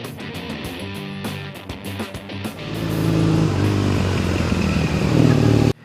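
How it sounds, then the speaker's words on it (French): A 2015 Triumph Bonneville Newchurch engine, first giving a few sharp blips and clattering revs, then settling into a loud, throaty, low-pitched steady run close by before cutting off abruptly. "la sonorité de ce moteur, qui est très sympa, très typique, un petit peu rauque, un petit peu lent dans le rythme"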